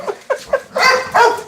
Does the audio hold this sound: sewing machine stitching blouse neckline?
no